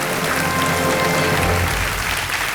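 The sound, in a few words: studio audience applause on KBC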